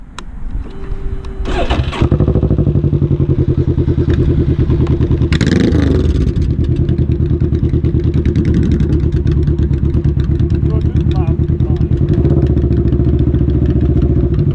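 A Can-Am Ryker three-wheel motorcycle with a new loud exhaust starts up and revs, then holds a loud, rough, throbbing exhaust rumble close by for several seconds.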